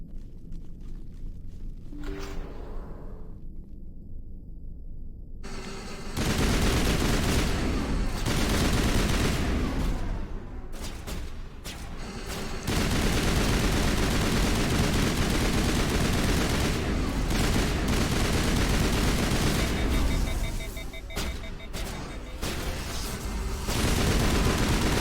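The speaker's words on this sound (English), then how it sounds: "Let's start with the assault rifle, and then when they get close," Sustained assault rifle fire in the sci-fi shooter game Mass Effect, loud and close, sounding as long continuous bursts that pause briefly between them, with heavier booming impacts mixed into the dense rattle.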